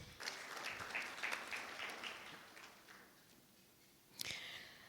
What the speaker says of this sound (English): So a round of applause for you guys for being in the room.